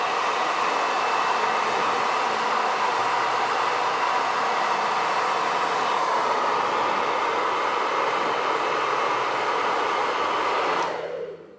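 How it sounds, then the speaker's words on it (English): A hair dryer blasts air over a painted Warhammer 40k Tyranid Psychophage miniature, a loud, close, steady roar that runs unbroken for about eleven seconds before cutting off sharply at the end. "I'm gonna blast it with the blow dryer"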